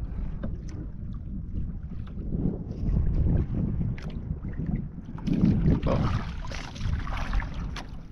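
A small wooden boat out at sea, with low rumbling water and wind buffeting the microphone in uneven surges, close and continuous, and no talk.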